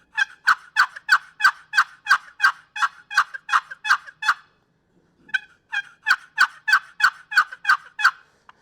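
A wooden turkey box call run on its two sides, giving a loud, close series of rapid yelps, about a dozen evenly spaced notes, a short pause, then a second run of similar yelps with a slightly different tone, no talking.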